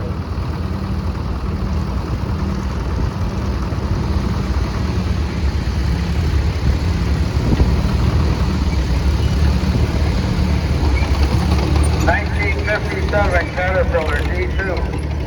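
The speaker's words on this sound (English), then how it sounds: "Cadet, 7 horsepower, owned and operated by Tyler Lewis of Meadville." A 7-horsepower Cadet garden tractor engine putters steadily in a tractor parade held by a pioneer steam and gas engine society, a low, even drone with a voice speaking over it near the end.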